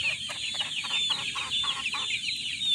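Chickens of a fighting cock breed, offered for sale, cluck in a steady rapid series over constant background chatter from other birds, fairly near and moderately loud.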